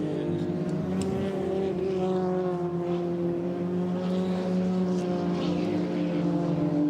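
Touring cars racing at Amaroo Park in 1992 make a continuous, harmonic engine drone that holds steady with slight pitch shifts, heard from a distance with no voices over it.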